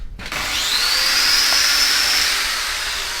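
Steady high-pitched whine of an angle grinder spinning up with a 5-inch abrasive strip disc on mild steel, a loud continuous tone holding for about two seconds and easing off, with no talk.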